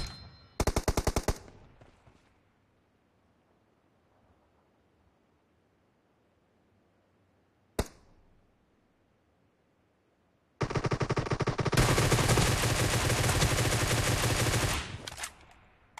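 Automatic gunfire in the mobile shooter BGMI during a 2v2 team deathmatch: a short loud burst, a lone sharp shot, then a long sustained volley of rapid fire, with quiet gaps between.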